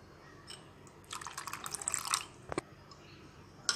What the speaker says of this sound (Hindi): थोड़ा सा और पानी डालती हूँ मैं इसमें।